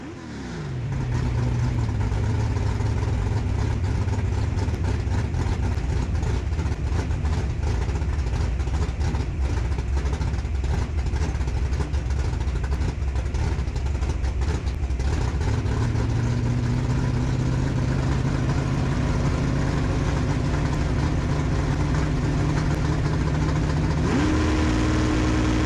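Bracket racing truck engine at a drag strip, a loud continuous drone held steady for most of the run, with pitch shifts partway through and again near the end as the truck eases off.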